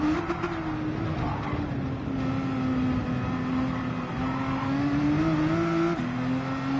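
A race car engine revs loud and steady through the gears in Gran Turismo 7, a sustained high whine that holds almost unbroken, dipping briefly around a shift before climbing again.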